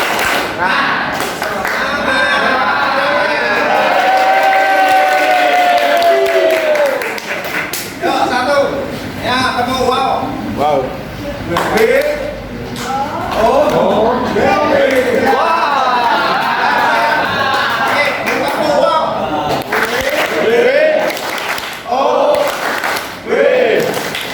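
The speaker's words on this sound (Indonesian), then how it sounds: "Oke, kita tepuk semangat dulu. Tepuk semangat." A classroom of Indonesian students performs a rhythmic spirit-clap cheer, with patterned group claps and chanted shouts alternating over about twenty seconds, loud and close, with a teacher's voice leading between rounds.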